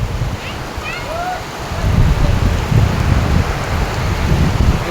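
Heavy rain pours down on a rural village in Bangladesh, a dense steady roar that swells louder partway through, with low rumbling beneath and faint voices in the background.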